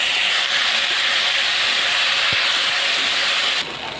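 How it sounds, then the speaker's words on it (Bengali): Prawns seasoned with salt and turmeric fry in hot oil in a pan, giving a loud, continuous close-up hiss that drops slightly in level near the end. "মাছটা ভেজে নেব"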